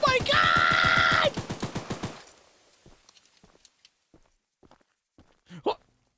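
A video game gun fires a rapid burst of about a dozen evenly spaced loud shots with a ringing tone, then falls silent apart from scattered faint clicks and a brief thump near the end.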